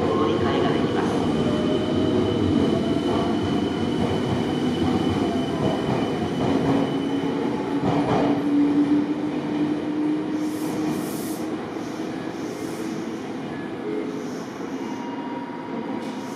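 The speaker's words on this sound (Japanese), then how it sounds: "4番線から電車が発車します。" A Meitetsu 1700 series electric train with Toshiba IGBT drive rumbles and rolls out loudly from a station platform, wheels grinding with a long squeal and a rising whine, while a departure announcement speaks briefly over the noise.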